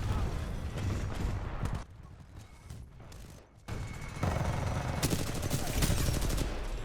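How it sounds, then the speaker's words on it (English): Anti-Titan laser weapon firing in Titanfall 2 amid heavy in-game combat, loud sustained blasting and rumbling with a brief quieter lull before the barrage resumes. "if you're wondering what that laser was, that's my anti-Titan weapon"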